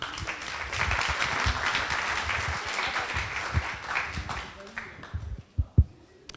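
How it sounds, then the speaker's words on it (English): Audience applause for a presenter named Clément at a business talk, a steady clapping wash with some talk mixed in that thins out toward the end into a few loud scattered claps. "please give a warm applause to Clément"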